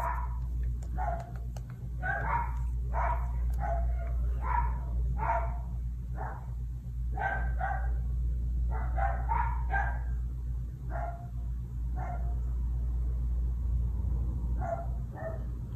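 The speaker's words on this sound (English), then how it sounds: "I guess somebody walked down the street with their dog or..." Out on the street, a dog barks again and again in quick bursts and short yips, somewhat distant and muffled, above a steady low hum.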